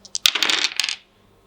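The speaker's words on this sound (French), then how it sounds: "Maintenant, je peux relancer mes dés." Dice clatter across a table during a board game, a quick rattling burst of tumbling and bouncing that settles within about a second, heard alone and close by.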